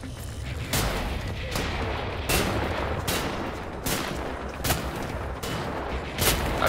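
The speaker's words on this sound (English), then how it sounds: "Okay, who the heck is shooting?" Gunfire in Wolfenstein: The New Order, about nine loud, sharp shots spaced roughly a second apart over a constant low rumble, with no talking.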